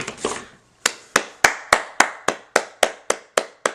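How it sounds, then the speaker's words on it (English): A person claps their hands in a steady series of about ten sharp, evenly spaced claps, loud and close, after a brief moment of speech at the start. "I'm clapping to congratulate the Republicans"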